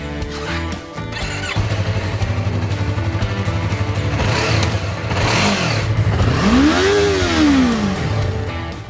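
A 2015 Yamaha YZF-R3 with a fuel-injected 326cc parallel twin idles with a steady burble, then revs up sharply twice, the second blip climbing higher before dropping back, close and loud.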